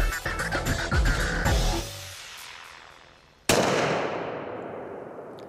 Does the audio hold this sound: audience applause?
no